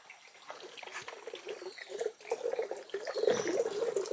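Water splashes and trickles steadily as something is washed and scrubbed with a brush by hand at a remote forest home. The sound stays close and moderately loud, with the splashing growing busier toward the end.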